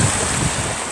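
Ocean waves wash in at the beach, a steady broadband rush with low surging swells, heavily buffeted by wind noise on the microphone.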